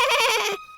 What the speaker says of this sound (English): they heard the voices of the little goats